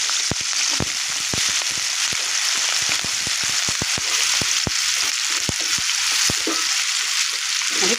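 Diced potatoes frying in oil in a kadai on a gas stove, a loud continuous sizzle broken by frequent sharp crackles and pops scattered throughout.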